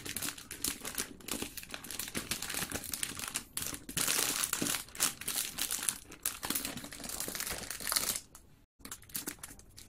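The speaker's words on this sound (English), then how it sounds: "Just put the paper like this and tie with the string." Paper crinkling and crumpling as it is handled and wrapped around a balloon for a floral wedding decoration, a steady close rustle throughout with a brief silent gap near the end.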